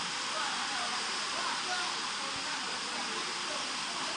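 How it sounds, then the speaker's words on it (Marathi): Heavy rain pours down during a 40-plus cricket match between Vahal and Belapur, a steady, dense hiss that stays constant throughout at a moderate level, with no clear voices. "पावसाचा जोर वाढत चाललेला आहे बघा"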